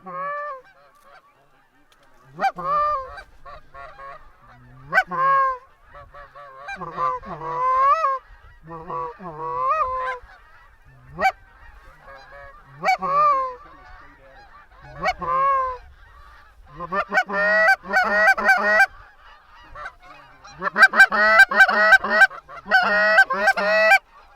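Large wild geese honk repeatedly and loudly during an early-season goose hunt, scattered calls at first, then a dense chorus of honking building toward the end.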